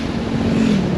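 Yamaha Tracer 7 GT motorcycle cruising at about 70 km/h on an open road, a steady engine drone with wind rush, continuous and close throughout.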